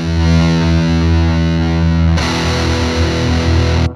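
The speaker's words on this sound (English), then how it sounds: "you turn on a high gain distortion" An electric guitar plays through a Fender high-gain distortion pedal, loud and saturated. A sustained, heavily clipped chord rings out, then changes abruptly partway through to a brighter, fizzier distorted tone.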